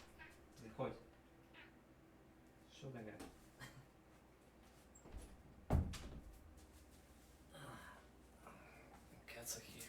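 A cat in the Grim Dawn action role-playing game gives a few short meows spread across the clip, faint and intermittent, with sharp game effects and quiet talk in between.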